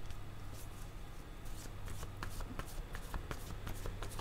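Tarot cards are shuffled close by, giving soft, faint riffling and papery ticks that repeat in quick, uneven bursts over a low background hum.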